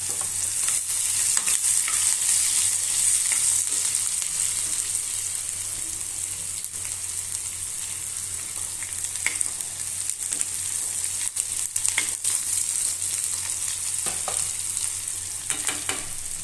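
Onion frying in a pan with oil for sushila, a loud, steady hiss of sizzling that carries on without pause, with occasional faint stirring clicks and no voices.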